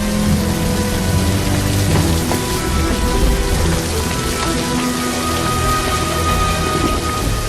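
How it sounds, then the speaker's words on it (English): Steady rain pours down in a dense, continuous hiss, with a low rumbling undertone throughout. "Come on out of the rain now."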